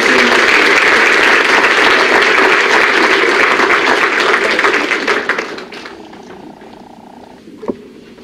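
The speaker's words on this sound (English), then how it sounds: "So one more round of applause for Kate and Allison." Loud, sustained applause from a crowd at the 2022 Widener Athletics senior awards assembly, dense clapping for about five seconds before tapering off into quieter room sound.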